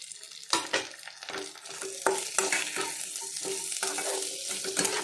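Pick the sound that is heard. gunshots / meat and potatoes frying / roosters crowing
meat and potatoes frying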